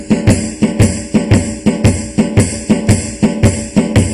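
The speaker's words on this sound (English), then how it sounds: "So we can double that up, and that's going to have a constant series of that 16th note, 8th note pattern like that, and it's going to sound something like this." A drum kit plays a steady groove with a snare drum in a repeating dotted eighth–sixteenth note pattern, a crisp, even, looping beat heard alone and up close.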